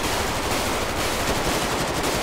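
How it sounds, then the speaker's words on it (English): Guns fire into the air in a roleplay video game, a dense, continuous stream of rapid automatic shots. It stays loud and unbroken for the whole stretch. "They're just shooting in the air."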